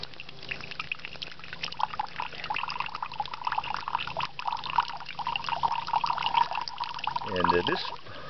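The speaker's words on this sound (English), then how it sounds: "Now we're going to filter out this very same water into a clean glass" Dirty water pours through a Sawyer water filter into a clean glass, a steady trickle running near and continuous, with the fill rising at the end; a person talks over it.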